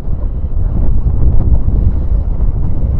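Steady wind rushing over the water during a wing foil session, a constant loud low roar with buffeting microphone gusts and faint water wash, no talking.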